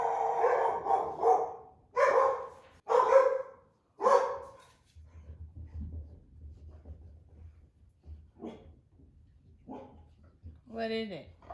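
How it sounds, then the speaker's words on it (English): A dog barks four times in quick succession, loud and close, followed by a few softer yips and whines against a low hum. "What are you barking about?"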